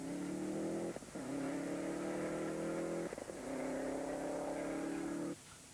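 Onboard a Group N Subaru Impreza rally car on a single-stage rally, the engine climbs hard through the gears, rising in pitch three times with brief dips at each shift, loud and close.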